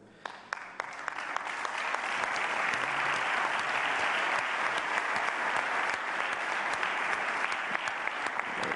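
An audience at a political conference bursts into applause that swells within the first second and holds as a dense, steady clapping for the rest of the stretch, with no talk over it.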